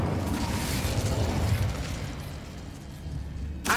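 A roaring burst of flame from the Incendio fire spell in Hogwarts Legacy, a dense, rumbling blast that gradually fades and ends with a short sharp crackle.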